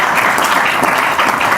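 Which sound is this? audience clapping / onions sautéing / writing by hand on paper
audience clapping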